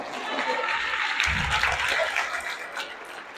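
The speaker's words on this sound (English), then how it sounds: "What are you clapping for?" An audience in a school presentation hall claps in a dense, moderate patter, with a voice briefly talking over the applause.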